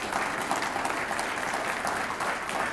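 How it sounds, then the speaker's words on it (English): An audience at Chadron State College applauds its new head football coach in a steady, even wash of clapping from a sizeable crowd indoors. "let's give Jay a big round of applause"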